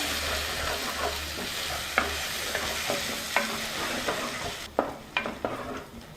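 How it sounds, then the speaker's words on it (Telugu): Onion paste frying in a pan, stirred with repeated scraping strokes over a dense sizzle that quiets slightly near the end as a few sharper clinks stand out, close by and unaccompanied by speech. "ఇందులోనే ఉల్లిపాయ పేస్ట్ వేసేసుకుందాం ఒకసారి బాగా కలుపుకుందాం"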